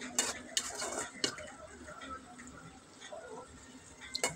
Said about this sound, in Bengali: হালকা একটু নেড়ে চেড়ে দিব যেন নিচে লেগে না যায়।